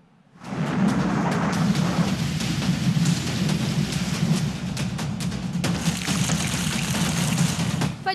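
Heavy rain pours during a thunderstorm in Punjab, a loud continuous roar of rainfall with deep rumbling thunder underneath, steady throughout after a quick fade-in, with no voices.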